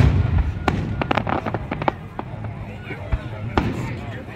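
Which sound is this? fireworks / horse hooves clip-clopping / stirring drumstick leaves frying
fireworks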